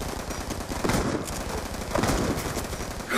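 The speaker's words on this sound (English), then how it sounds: "I just shot him twice." Rapid bursts of automatic gunfire in the Black Ops 2 video game, loud and continuous, with a few heavier shots standing out among the steady shooting.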